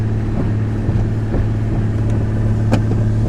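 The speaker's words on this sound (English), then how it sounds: "My first time running a wood boat." The engine of a 1957 Chris Craft 20-foot Sportsman wooden motorboat drones at a steady low pitch, loud and close, with wind buffeting the microphone and faint knocks over the hum.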